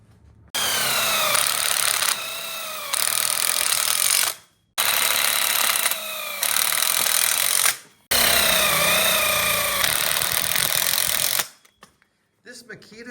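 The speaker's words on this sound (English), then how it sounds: "Now we'll go ahead and screw that in." A Makita power drill drives screws into a 90-degree corner frame for an outdoor kitchen, whirring in several bursts, pitch dipping as it bites, with short pauses between runs and a brief tail of clicks.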